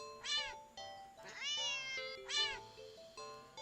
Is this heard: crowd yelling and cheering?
no